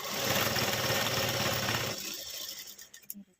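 A sewing machine stitches a fall onto a saree, running in a fast, loud, even whir for about two seconds before slowing and stopping with a few mechanical clicks and knocks.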